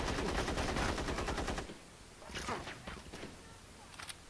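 Rapid pistol gunfire in the video game Gangstar Vegas, a dense burst of loud shots followed by a few scattered softer shots and clicks.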